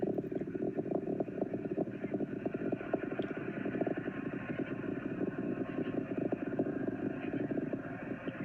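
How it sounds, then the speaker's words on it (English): An Atlas V rocket's RD-180 engine roars in flight after liftoff from Cape Canaveral, a continuous crackling, rumbling roar heard from a distance without a break. "the RD-180 is throttling back up as expected"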